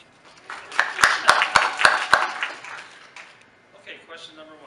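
Claps ring out at a student body president debate, a handful of sharp, spaced hand claps that fade after a couple of seconds, followed by a voice starting to speak.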